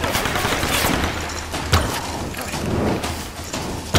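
Rapid machine gun fire and blasts from combat in the Tomb Raider Definitive Edition video game, a steady dense rattle with sharper explosive hits near the middle and end, loud throughout with no talking.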